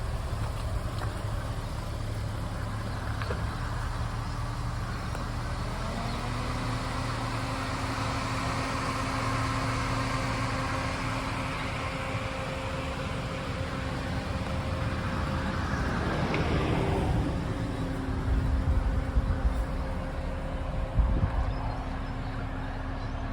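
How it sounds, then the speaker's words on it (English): A Ford FG XR6 with a standard exhaust idles nearby in a steady, fairly quiet low rumble, swelling slightly as it revs briefly toward the end. "The exhaust is fairly standard, so it doesn't sound too loud."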